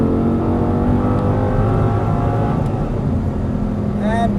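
An Audi R8 supercar pulls hard at full throttle on a race track, its engine a loud, steady, continuous roar with rising tones near the end, while an instructor talks over it.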